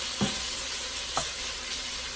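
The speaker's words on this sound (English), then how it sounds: "make sure I just give this a little stir" Pork and beef browning in a frying pan for Cajun fried cabbage, sizzling in a steady hiss while a few brief stirring scrapes of a utensil cut through at intervals.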